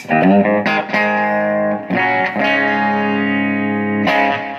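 Sustained electric guitar chords with a thick, shimmering tone, ringing out under delay and reverb that smear each strum into the next.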